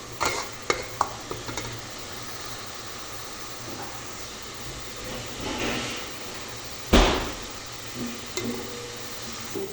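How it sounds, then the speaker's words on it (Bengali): Spice paste for chicken curry fries in a pan with a steady low sizzle while a spoon scrapes and stirs through it, with a few sharp clanks against the pan close by. "মশলাটা করে কষা মজা হয় মশলা কষা লাগতেছে কত কষাই যাবে তত ভালো লাগে"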